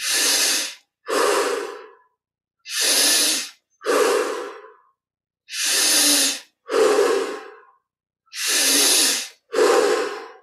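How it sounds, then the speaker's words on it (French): Deep, forceful breaths during a guided Kriya Yoga meditation come in four close inhale-exhale pairs, each a loud, airy rush lasting about a second, separated by silent gaps. "On devient témoin de ces grandes respirations."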